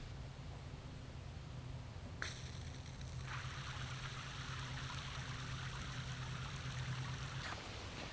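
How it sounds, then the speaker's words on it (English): A small aerating fountain splashes steadily into a floating bait tank, a faint constant trickle and babble of water with a low hum underneath and a brief click partway through. "I put a fountain in right there to kind of aerate everything."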